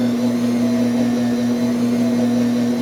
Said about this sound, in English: now you can see the mixer's having a hard time chopping through